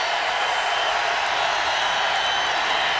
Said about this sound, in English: They're asking for the crowd to make noise.